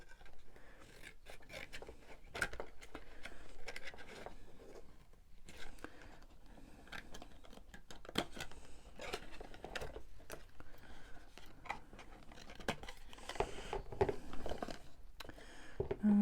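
Scissors trimming a piece of craft paper for a Halloween cracker, a close series of quick, crisp snips and rustles in an irregular rhythm, fairly quiet with brief pauses between cuts.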